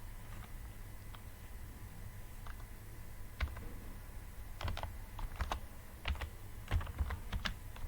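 Keys clatter as text is typed on a computer keyboard while working in CorelDraw, a quiet run of light clicks that grows busier and louder toward the end over a steady background hiss.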